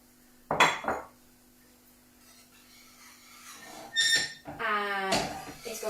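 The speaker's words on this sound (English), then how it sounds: "So you're going to pop your polenta in and we're just going to whisk it through." A whisk scraping and clinking around a pot as polenta is stirred into hot liquid on the lowest heat, in a vegan kitchen, with short bursts of metallic rubbing separated by quieter pauses, close and moderately loud.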